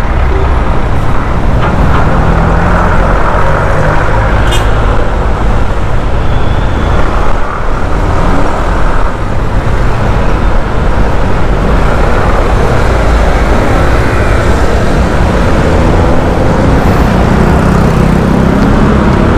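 Steady road traffic rolls past near a park in La Mesa, a continuous loud wash of cars, trucks and buses with engine rumble and tyre noise, no talking over it.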